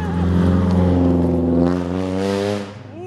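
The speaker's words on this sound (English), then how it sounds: "That's a good loud ass car." A loud car accelerates close by, its engine note climbing steadily with strong harmonics before tailing off as it passes, heard alone without talk.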